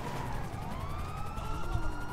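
A police car siren in the video game GTA V, a continuous wailing tone sweeping up and down over a dense rumble of traffic and engine noise.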